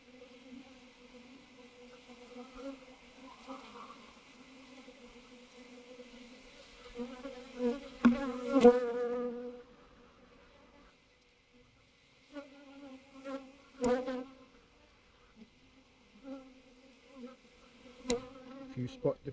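Honey bees buzz steadily during a swarm rescue, a dense, continuous hum with louder surges as insects pass close, then a brief lull before the droning picks up again.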